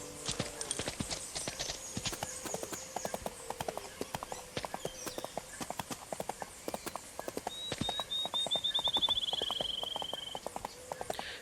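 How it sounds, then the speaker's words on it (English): Horse hooves clip-clop steadily in a video game about a farm, a brisk, even trotting rhythm of close, crisp knocks with a brief whinny partway through. "Lily's horse must be a direct descendant of American Pharaoh at this rate"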